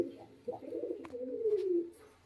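A caged pigeon coos softly up close, a low throaty warble rising and falling, with a faint click midway.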